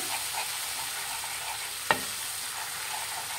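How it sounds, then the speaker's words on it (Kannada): An egg and milk mixture thickened with cornflour is stirred in a pan over a medium flame, a faint soft sizzle running steadily with one sharp clink of the spoon against the pan. "ಮೀಡಿಯಂ ಫ್ಲೇಮಲ್ಲಿ ಇಟ್ಬಿಟ್ಟು ನಾವು ಮಿಕ್ಸ್ ಮಾಡಬೇಕಾಗತ್ತೆ."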